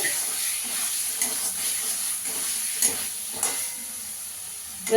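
Spice masala for a Bengali fish curry (Gujrali macher jhol) frying in oil, a continuous bright sizzle and hiss with occasional louder crackles and stirring scrapes, close up.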